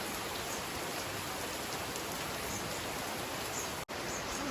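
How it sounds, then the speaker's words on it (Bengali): Steady rain keeps falling after Cyclone Dana, an even, continuous hiss of drops close by and unbroken, with no voices. "বৃষ্টি কন্টিনিউ হতে রয়েছে, বন্ধ হচ্ছে না কিন্তু।"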